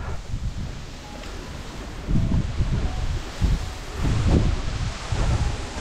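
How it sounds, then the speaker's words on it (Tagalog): Strong gusting wind buffets the microphone on a mountaintop at Yangmingshan, Taipei, roaring low and rising in bursts, with no talking. "Grabe hangin guys, oh."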